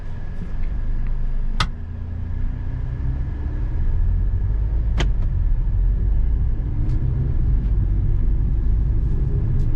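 A Hyundai i20 with a 1-litre turbo petrol engine and DCT gearbox drives along, its steady low engine and road rumble continuous throughout, with a couple of brief sharp clicks from inside the cabin.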